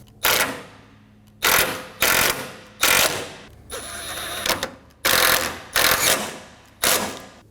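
A hand ratchet snugs down the cooling fan bolts on a Dodge Durango 5.7L V8, six loud close bursts of rapid clicking, each about half a second long, separated by short pauses.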